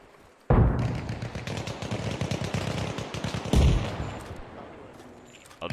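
Sustained M60 machine-gun fire in the Arma Reforger video game, loud and close: a heavy burst starts at once, rattles on in a steady rapid stream, then swells again halfway through and tapers off, with no talking.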